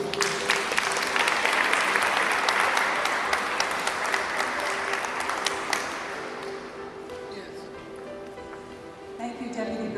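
A crowd at a Bronx Borough Hall senior center party applauds loudly for about six seconds, then the clapping fades into murmuring and background talk with a faint hum.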